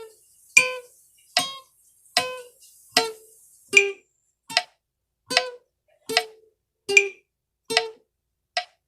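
Sharp, evenly spaced clicks from a metronome-like machine, a steady beat of about eleven ticks, each bright and ringing briefly, close and clear with no talk.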